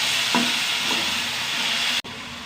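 Tomatoes frying in a pan on a home stove, a steady loud sizzle with a couple of light utensil taps, running continuously until a brief cut near the end.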